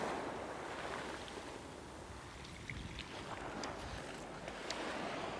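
Waves wash onto a pebble shingle beach as the tide comes in, making a steady broadband hiss and roar with light wind noise on the microphone and no voices.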